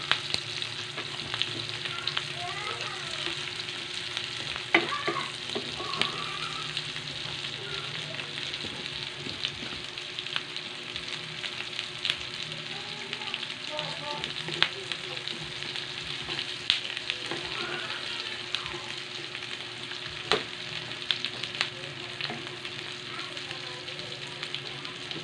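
Onion and garlic sautéing in hot oil for pork adobo with Sprite, the oil spitting and splattering in a steady, close sizzle with scattered sharp pops throughout.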